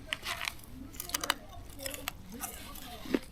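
Someone bites and chews crispy cooked bacon inside a camper van, giving a few quiet, close crunches with a voice murmuring in between.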